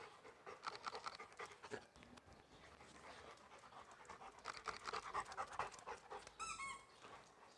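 A dog pants rapidly and steadily at close range, with brief squeaky whimpers near the end and faint background noise throughout.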